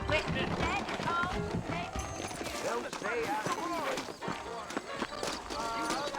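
Horse hooves clip-clop at a brisk pace on a dirt road in the western video game Red Dead Redemption, a steady rhythmic patter under continuous talking and music.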